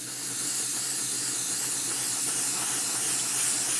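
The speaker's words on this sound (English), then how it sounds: "We broke out the Tamiya spray work for this" A Tamiya Spray-Work airbrush spraying paint onto a 1/16 scale RC King Tiger tank turret, giving a steady close airy hiss that holds even from start to finish without any talk.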